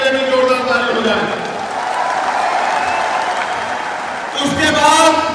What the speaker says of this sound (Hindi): एक बार इनके लिए भी जोरदार ताली हो जाए